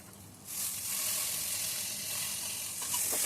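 Mint leaves sauté in a hot pan for chicken biryani, a steady close sizzle that swells loudly after a quiet start and holds through with faint stirring.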